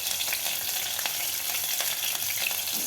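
Garlic and chillies fry in oil in a pan while being stirred for a soya chunk manchuria, producing a loud, continuous crackling sizzle with brief scraping accents throughout.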